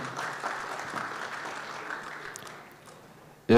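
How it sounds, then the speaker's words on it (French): Applause from a conference audience after a university professor and plan director is introduced, a steady moderate clapping wash that tapers off before a louder sound cuts in at the end. "Sous vos applaudissements"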